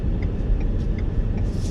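A 2021 Ford F-150 XLT Sport pickup with a V8 engine pulls away under throttle, a steady close engine rumble droning evenly with faint ticking over it.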